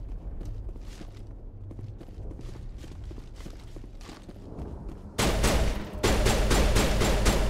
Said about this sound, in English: Wait, who's shooting?